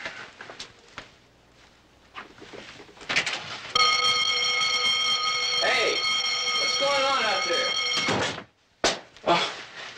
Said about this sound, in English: some kind of a deadbeat alarm system so people can't walk out without paying their checks?